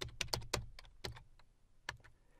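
Someone types a PowerShell command on a computer keyboard: a quick, quiet burst of separate key clicks in an irregular rhythm, close to the microphone, that trails off.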